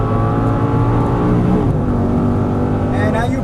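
An Audi R8 supercar at full throttle on a race track, its engine roaring loud and steady from inside the car, pitch climbing as it accelerates, with a voice talking over it.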